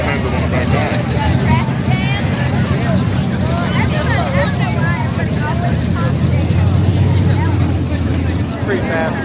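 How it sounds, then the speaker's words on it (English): A small block pulling truck's engine roars loud and steady at a truck and tractor pull, a dense continuous rumble with people talking underneath. "Pretty fast small block truck is louder than a monster truck."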